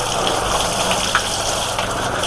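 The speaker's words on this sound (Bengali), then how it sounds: "পানি মেরে আগে গাটা নরম করে রাখবো," Water is sprayed onto a small cow's body to soften its coat, a loud, close, steady gushing hiss that continues without a break and with no speech.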